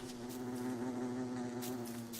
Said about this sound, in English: Yeah, just an individual bee.